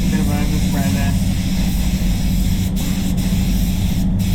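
Spray gun laying a light dust coat of clear coat on a Peugeot, a steady close hiss running without break throughout, with the speaker's voice over it.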